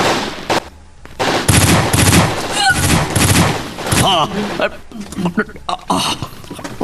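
Several bursts of gunfire, including rapid machine-gun-like volleys, crack loudly at close range, with voices shouting between and over the shots.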